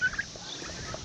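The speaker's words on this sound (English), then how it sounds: "there's the turkeys." Turkeys gobble in a short, close burst on a homestead garden, a quick rattling call that rises over steady outdoor background noise.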